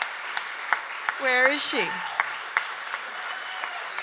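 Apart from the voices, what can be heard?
audience applause and clapping at a festival award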